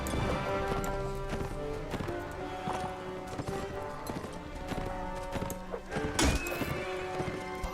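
Horses gallop across a battle in the video game Mount and Blade Warband, fast overlapping hoof clip-clops layered with game music and clashing thuds, steady and close throughout.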